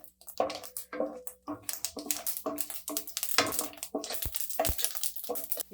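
Mustard seeds, cumin and chana dal crackle in hot oil, giving close, irregular bursts of popping and spattering over a low steady hum.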